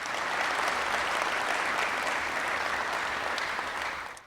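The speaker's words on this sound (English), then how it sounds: "So give yourselves a round of applause." An audience at a press conference claps in steady, dense applause that holds throughout and fades slightly at the end.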